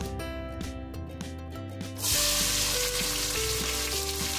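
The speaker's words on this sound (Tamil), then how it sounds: "பட்டை, கிராம்பு, ஏலக்காயெலாம் நல்லா பொறிஞ்ச உடனே நம்ம அரிஞ்சு வச்சுருக்க வெங்காயத்தையும் இதோட சேர்த்திடலாம்" Chopped onions hit hot oil with cinnamon, cloves and cardamom for mutton biryani, bursting into a loud, continuous close sizzle about halfway through, over steady background music.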